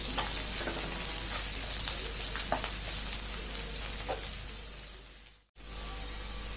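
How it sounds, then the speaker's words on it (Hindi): Chopped onion frying in a pan for Odia kalama saga (water spinach), a steady broadband sizzle with a few soft stirring clicks, close and fairly loud, cutting out briefly near the end before resuming; no talking. "एबे आम 3 ରୁ 4 मिनट पियाज को भी भाजी नवा"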